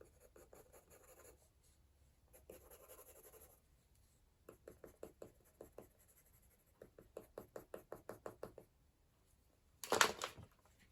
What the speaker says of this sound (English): beginning to show the way the fur is growing with a dark pencil. So lifting out lights and coloring in darks.